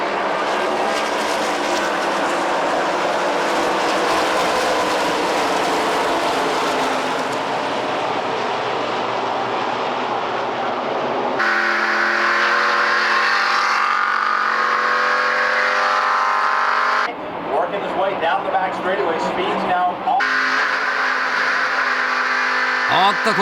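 Race cars roar past on a NASCAR oval in 1998 as Keiichi Tsuchiya starts his first oval race after two rolling laps. Loud, sustained engine noise fills the clip, with abrupt shifts in tone and speech over it.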